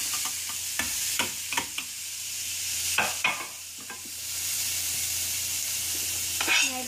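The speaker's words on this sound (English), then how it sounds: "we have our butter simmering in our pan" Butter sizzles in a pan with peppers for collard greens, a steady close hiss broken by several sharp clinks and scrapes of a utensil stirring.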